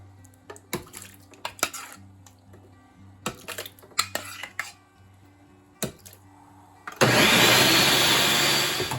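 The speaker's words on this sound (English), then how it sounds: "So I'm going to add this chunky Bolognese to a blender." A kitchen blender roars to life and runs steadily at high speed, puréeing chunky vegan lentil Bolognese sauce, after a stretch of scattered clinks and knocks from dishes and utensils.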